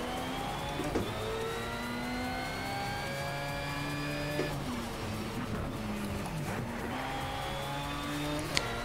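A Mitsubishi Lancer Evo IX races in the video game Need for Speed Shift 2, its engine droning steadily and climbing in pitch through repeated gear shifts, loud and continuous, with no speech.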